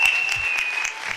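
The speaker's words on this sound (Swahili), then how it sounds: "Pigieni Omosh makofi mazuri" A church crowd claps steadily for Omosh, close and dense, with a thin high tone running through the clapping.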